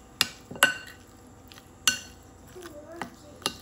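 Tandoori chicken marinade with spices and oil being mixed in a bowl for an air fryer recipe, heard as a few sharp utensil clinks and scrapes against the dish, spaced irregularly and close by.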